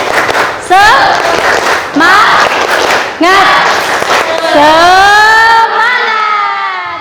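Classroom group doing the tepuk semangat clap chant: a few loud, sharp clap bursts spaced out in rhythm, mixed with voices chanting together in a loud, lively, close room.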